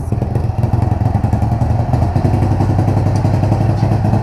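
A Jawa motorcycle engine, apparently a KTM-style enduro build, idles steadily while warming up, with a loud, continuous, close-up pulsing putter and mechanical clatter running unbroken and without any talk.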